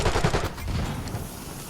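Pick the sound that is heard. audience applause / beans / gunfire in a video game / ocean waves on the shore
gunfire in a video game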